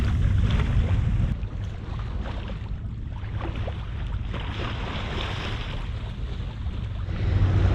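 A sailboat cruising at 3 to 4 knots in light, patchy wind: a steady wash of water along the hull and constant wind rush on the microphone, with no talking.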